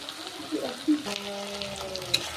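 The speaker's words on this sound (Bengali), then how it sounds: "ভাজছি" Cumin, whole peppercorns, garam masala, tomato and turmeric frying together in a pan, a soft, close sizzle with a few light stirring scrapes, fairly quiet and brief.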